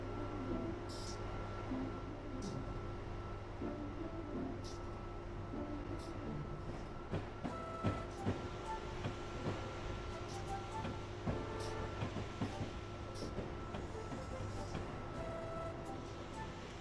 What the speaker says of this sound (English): Your next train is in a little while, so you can idle here while you wait.